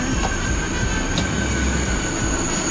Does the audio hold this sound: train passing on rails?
yes